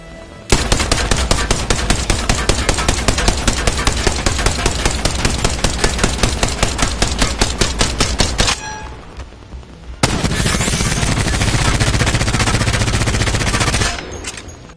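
Rapid automatic gunfire from the Rampage and Devotion weapons in Apex Legends, a loud, sustained stream of evenly spaced shots for about eight seconds, a short pause, then another dense burst of continuous firing.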